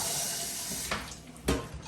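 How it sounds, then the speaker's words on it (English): A kitchen tap runs into a pot being filled for soft-boiled eggs, a steady close hiss of water broken by a couple of brief louder gushes or knocks. "Turn that off one more time and we'll just fill that up with water."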